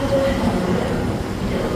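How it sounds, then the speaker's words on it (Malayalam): A metro train rumbles past a station platform, a steady, loud roar of wheels and carriages filling the whole moment with a faint high whine riding on top. "അങ്ങോട്ട് വന്ന മെട്രോയിലൊന്നും ആളില്ല"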